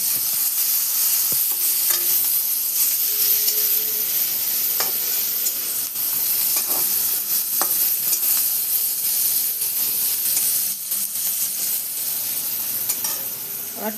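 Chopped onion and chili fry in hot oil after ginger, a loud continuous sizzle and hiss with occasional stirring scrapes of a spatula in the pan.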